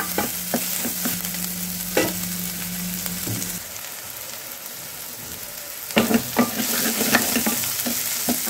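Ginger garlic paste fries with onions in a hot pan while prawn curry is cooked. A steady, loud sizzle runs throughout, broken by a spoon scraping and clacking against the pan in bursts of stirring.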